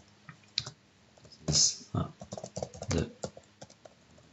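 Typing on a computer keyboard while entering a description, a light irregular patter of close clicks with a louder cluster of keystrokes midway, quiet overall.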